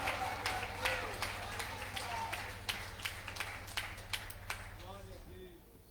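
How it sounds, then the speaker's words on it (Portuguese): A church congregation at a Thursday service claps hands in a steady, rhythmic beat of sharp, close claps over a low constant hum, tapering off at the end. "Bata a palma mais forte e diga aleluia."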